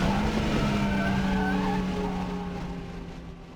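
Ford Focus RS on a racetrack captured with lavalier mics: a steady engine drone with a clear tonal hum and a tire-squeal-like whine, moderately loud and slowly fading.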